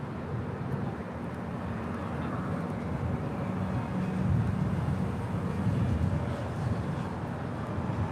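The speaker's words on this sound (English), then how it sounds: "Delta Airlines Flight 8 Heavy touching down on 24 right" A Delta Airlines jet, Flight 8 Heavy, touching down on runway 24 right at LAX, heard as a steady, distant low roar of engine and rolling noise that swells slightly toward the middle.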